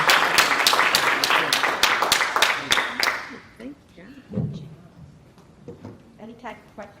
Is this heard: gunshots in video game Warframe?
no